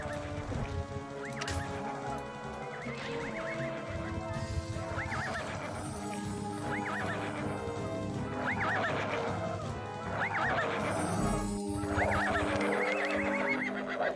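A horse in the video game Ultima Online whinnies again and again in a long series of rising, wavering neighs, with clip-clopping hooves and steady game ambience beneath, loud and near.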